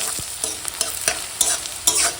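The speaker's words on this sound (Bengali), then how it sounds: "ফোড়নের সঙ্গে এখন পেঁয়াজ কাঁচা লঙ্কাটা ভাজা হয়ে গেছে" Onion and green chilli frying with whole garam masala and bay leaf in hot oil: a steady close sizzle broken by several sharp stirring scrapes of a spatula against the pan, with no talking.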